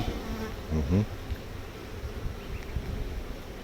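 A dense, steady hum of many honey bees buzzing up close on a brood frame, with an occasional louder bee passing near.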